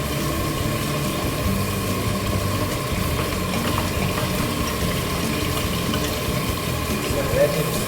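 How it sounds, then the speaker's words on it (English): Pork ribs and potatoes stir frying in a pan for a potato and pork rib stew, a steady, close sizzle and crackle that runs unbroken with a low background hum. "We're going to add the potatoes here, and then we stir fry the meat also."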